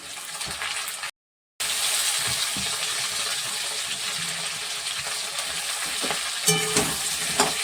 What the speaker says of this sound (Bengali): পেঁয়াজ কালিটা আমি দিয়ে দিলাম পেঁয়াজ কালি দিয়ে করবো